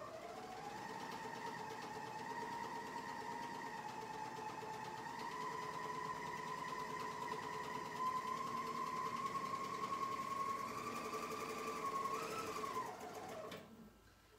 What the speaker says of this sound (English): on my presser foot here in that same exact stitch, and I'm just going to attach all of these layers together.